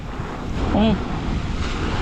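Broadband wash of surf and wind noise, a wave surging and breaking at a small lagoon with a brief rising call over it, steady and fairly loud.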